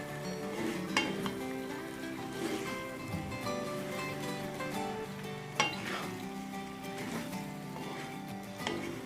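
Bilimbi pickle is stirred gently in a pan, making a soft continuous frying sizzle with occasional scraping clinks from the utensil against the pan, close and without speech.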